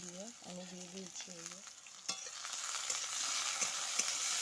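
Potatoes and eggplant with neem leaves frying in a pan and being stirred, a steady close sizzle that swells in the second half, broken by a few sharp spatula scrapes, with a short tonal sound near the start.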